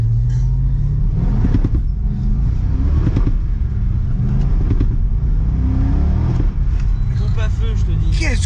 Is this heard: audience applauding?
no